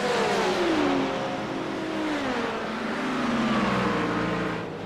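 A race car in a 24 Hours of Daytona sim racing game, its engine droning loud and steady as it drives on track, the pitch sliding down through the gears and then climbing again.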